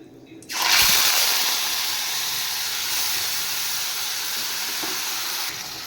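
Marinated singi fish hits hot oil with a sudden loud sizzle, then settles into a steady, close, hissing fry that runs on without pause, with a few faint clinks in the pan.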